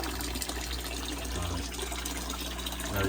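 Water drains from an isolation tank holding harvested male stock, a steady broadband rush and trickle running close and continuous, with no voices over it.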